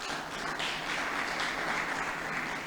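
An audience at an international guest lecture in a university hall claps steadily in a dense, even wash of applause, moderately distant, with no talk over it.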